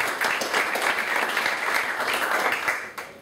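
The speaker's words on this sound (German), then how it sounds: "Applaus für uns, oder?" Audience applause from a crowd at an event, a dense steady clapping that fills about three seconds before fading out.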